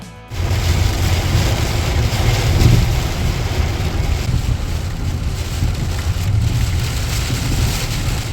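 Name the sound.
heavy rain downpour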